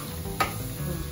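Bisibele bath spice powder with onion and tomato sizzles in a pan, a short steady frying hiss with one quick scraping stir in the middle.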